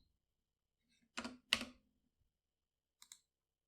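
A few isolated computer keyboard keystrokes, sharp close clicks in a quick pair followed by a fainter double tap after a pause, otherwise quiet.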